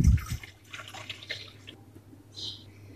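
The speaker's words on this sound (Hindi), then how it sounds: "इसमें हमने शामिल कर देना 1 लीटर के करीब पानी" About a litre of water poured into a cooking pot in a home kitchen, a quiet, soft splashing and trickling that rises and falls for a few seconds, close by with no talk.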